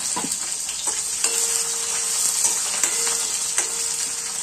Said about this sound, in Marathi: मिरची लाल होईपर्यंत फ्राय होऊ द्यायचं।